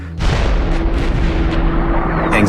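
Airstrike explosions and artillery fire in Afghanistan: a heavy boom that rolls out into a long, loud rumble lasting a couple of seconds.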